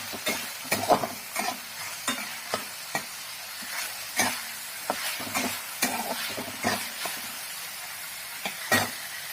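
Finely chopped onion frying in a pan for kandapat bhaji, irregular scraping stirs over a steady sizzle, close and fairly loud, no talking.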